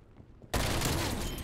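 Shotgun fire in the video game Call of Duty Cold War, a sudden loud blast after a quiet moment, followed by a sustained roar of gunfire that stays close and heavy.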